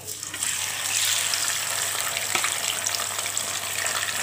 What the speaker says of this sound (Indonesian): Oke, kita goreng semuanya lelenya ya